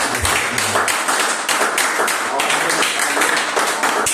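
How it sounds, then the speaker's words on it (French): Church congregation at a Sunday service in Cherbourg, France, breaking into applause: dense, fast clapping from many hands fills the room steadily, with faint voices underneath. "Est-ce qu'on peut donner une acclamation?"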